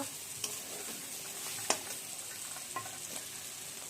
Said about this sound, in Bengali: ক্যাপসিকাম দিয়ে দিচ্ছি।